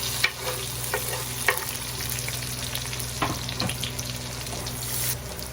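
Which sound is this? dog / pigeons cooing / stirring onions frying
stirring onions frying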